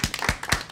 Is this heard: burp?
no